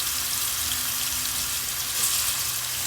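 Beef pieces frying in a hot pot for Haitian stew beef, a steady, even sizzle with broad hiss running unbroken throughout, no voices.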